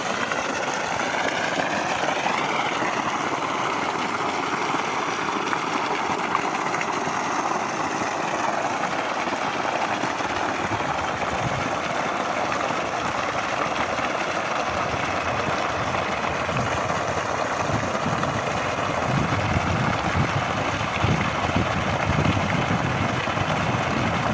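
An Orbit 7.5 HP 10-stage submersible pump motor runs with a steady, continuous hum and low rumbling vibration, holding an even loudness throughout with no talk.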